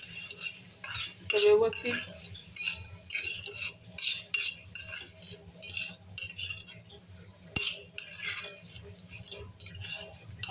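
Methi (fenugreek) bhaji being sautéed in a pan: a spatula scrapes and clinks against the metal in repeated strokes over a soft sizzle, with a brief spoken word.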